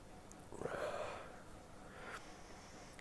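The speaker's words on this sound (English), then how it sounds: "Let's have a sniff." A person sniffs a glass of Brewdog Almost Famous New England IPA, one faint, close inhaling sniff followed by a softer second breath in an otherwise quiet room.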